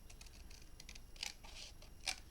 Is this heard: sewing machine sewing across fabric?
no